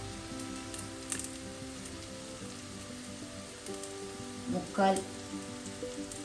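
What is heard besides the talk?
Kashmiri chili powder sizzling in hot oil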